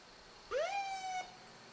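A fire company's emergency vehicle from Red Hill, Pennsylvania sounds a brief siren blast while passing in a town parade, one rising wail that holds steady for under a second and then cuts off, fairly clear against quiet street background.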